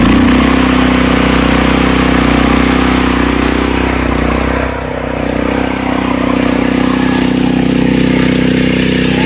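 A Hyundai rotary tiller engine runs steadily after a kick start, a loud, close, continuous idling chug with a deep throb that holds for the whole stretch, dipping briefly midway before settling back.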